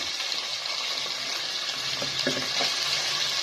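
Chicken frying in oil on high heat, a steady dense sizzle and crackle with occasional stirring scrapes, close and continuous with no voice.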